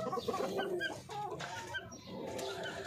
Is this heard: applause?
no